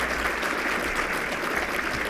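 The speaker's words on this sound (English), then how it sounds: "Give him a round of applause." Audience applause at an Akron Roundtable luncheon, dense continuous clapping at an even, moderate level with no talk over it.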